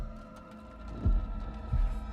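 Heartbeat effect from the horror video game The Dark Pictures: Little Hope: two deep, muffled thumps about a second apart over a low steady game hum.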